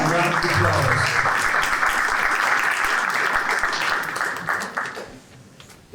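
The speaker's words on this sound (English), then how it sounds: "Let's give them a round of applause." A school board meeting audience gives a sustained round of dense clapping that holds steady for several seconds before tapering off, with a voice speaking faintly alongside.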